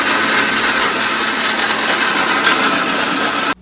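Raw onion and tomato ground in an electric mixer grinder, a loud, steady whirring motor drone held close and unbroken for several seconds before it cuts off abruptly.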